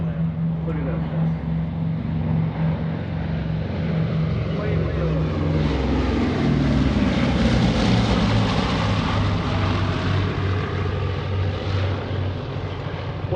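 A B-29 Superfortress propeller bomber flies a World War II weekend demonstration, its big radial engines giving a steady, throbbing low drone that builds louder midway and holds as the aircraft passes.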